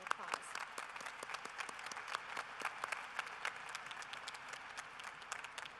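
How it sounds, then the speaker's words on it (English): A large crowd claps in a sustained round of applause at a fall university commencement ceremony. The sharp, crisp claps blend into a dense, lively wash that continues for several seconds. "let's give another round of applause."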